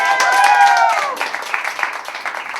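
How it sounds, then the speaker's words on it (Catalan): An audience at a youth theatre group show applauds one of its members, a burst of clapping that rises out of a brief held vocal tone and continues as uneven, lively claps. "Un fuerte aplaudiment per l'Estel, venga"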